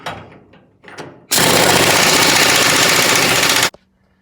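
An impact gun snugs trailing arm bolts on a car being readied for a show, firing one loud sustained rattling burst of about two and a half seconds after a few faint knocks, close up with no talking.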